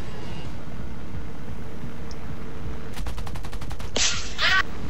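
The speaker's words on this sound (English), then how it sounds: "Oh, the Japanese 50 cals are amazing." Japanese .50 cal machine guns firing in the War Thunder flight game, with a short rapid burst of evenly spaced shots, then a louder crackling hit close up, loud over steady engine drone.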